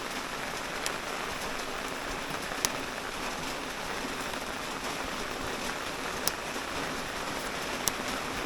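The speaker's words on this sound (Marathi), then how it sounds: "पाऊस मोठाच आला आता." Heavy monsoon rain pours steadily onto surfaces near a house with a water tank in Konkan, a dense, even hiss with a few sharp drip ticks and no voices.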